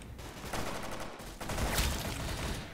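Gunfire in the Roblox shooter Arsenal, dense overlapping shots and bursts crackling continuously at moderate volume, fairly close, with a heavier flurry toward the end.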